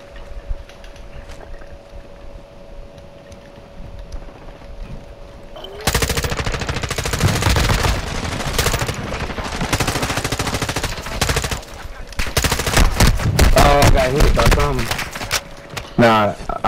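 Heavy automatic gunfire from Modern Warfare II erupts after a quiet stretch, with long loud bursts and scattered shots while players talk over it.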